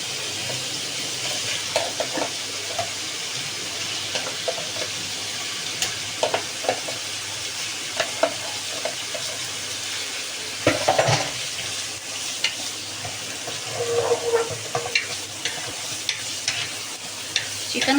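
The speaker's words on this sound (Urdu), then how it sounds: "چکن کو ہم اس طریقے سے اس میں فرائی کر لیں گے" Half a kilo of chicken frying with garlic and ginger over high heat in a karahi, a steady loud sizzle with scattered clinks and scrapes of stirring, no voices.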